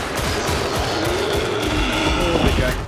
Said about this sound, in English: The Plague Ogre sounds like this,